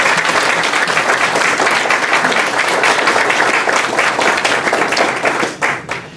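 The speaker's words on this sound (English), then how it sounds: "if we could have one more general round of applause for the wonderful ladies and gentlemen" Audience applause at a veterans' breakfast event, a dense, steady round of clapping from a large crowd that holds loud for about six seconds before thinning out at the end.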